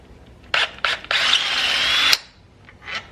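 Close, loud power drill bursts removing the bolts during a car alternator replacement: a few short trigger pulls then one sustained whirring run, ending with a brief faint spin-up.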